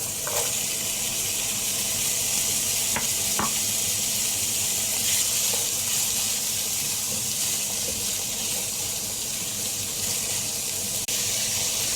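Carrot added to pork giniling frying in a pan gives a steady, loud sizzle with a watery hiss, continuous throughout with faint scraping clicks and no talking.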